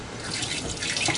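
Water, about four cups, is poured into a container in a kitchen, making a steady, splashing gush that runs loud and close throughout a brief moment, with no speech over it.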